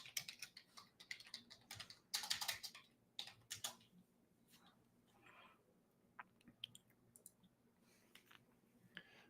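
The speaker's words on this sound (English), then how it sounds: "here I'll type it in just so it's easier." An email address is typed on a computer keyboard in quick clustered bursts of key clicks with short pauses between, close and fairly quiet, with no voices.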